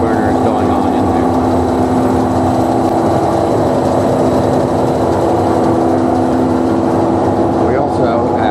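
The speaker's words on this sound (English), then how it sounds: "We have full burners on." A Probat UG15 coffee roaster, freshly moved and reassembled, runs with its gas burners at full, giving a steady, close, loud roar with a droning mechanical hum that holds evenly throughout.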